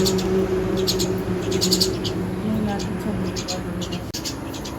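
Birds chirp and tweet in short repeated bursts over a steady background hum, with voices murmuring underneath.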